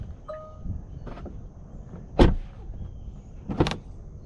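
Opening the door of a 2021 Tesla Model 3 Standard Range Plus gives a few short, sharp cracking clicks, with a distinct creak around the middle and another pair near the end over a low background rumble, no talking.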